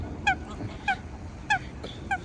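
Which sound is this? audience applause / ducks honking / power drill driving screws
ducks honking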